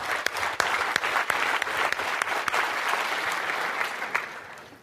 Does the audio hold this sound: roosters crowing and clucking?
no